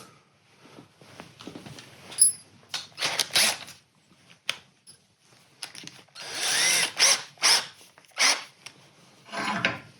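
A power drill whines in repeated short bursts with grinding, rasping bite into metal, separated by brief pauses and small handling clatters; close and fairly loud, working on a Yamaha TW200 motorcycle.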